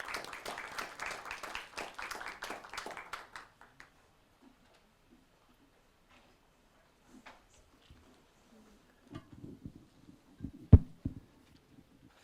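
A room audience applauds to welcome panel speakers and a moderator at an event in Delhi, moderate clapping for a few seconds that quickly dies away, leaving quiet with a few faint knocks and bumps.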